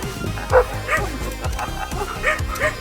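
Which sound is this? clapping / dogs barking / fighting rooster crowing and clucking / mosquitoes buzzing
dogs barking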